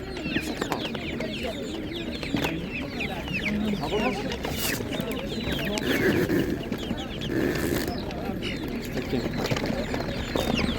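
Chickens of Spanish and naked-neck breeds at an animal market cluck repeatedly and busily, close and lively, with market chatter and people talking in the background.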